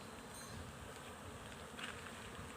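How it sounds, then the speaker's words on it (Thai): A swarm of bees buzzes over a house roof, a dense, continuous drone that stays steady throughout with no talk. "มีฝูงพึ่ง บิน บนหลังคาเยอะมากครับ"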